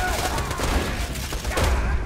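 Guns firing in a Borderlands 2 co-op firefight: a dense, loud barrage of rapid overlapping shots that runs for the full two seconds.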